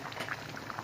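Broth with chayote and cabbage at a rolling boil in a pot, a steady close bubbling and popping texture with no voices.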